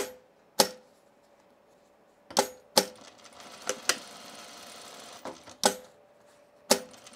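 Sewing machine topstitching a leather tool belt, with short sharp mechanical bursts and clacks spaced irregularly and a brief run of stitching in between, close and fairly quiet.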